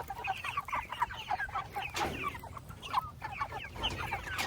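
Seven-and-a-half-week-old Cornish Cross meat chickens cluck and murmur softly in a group outdoors, a close, continuous chorus of short low calls.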